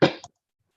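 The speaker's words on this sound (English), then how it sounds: "Please excuse the cough." A single short cough, close and abrupt, with a small second burst just after it, then silence.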